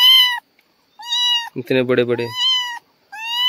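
A small kitten with big claws meows repeatedly, high and close, in four cries while someone talks over the middle.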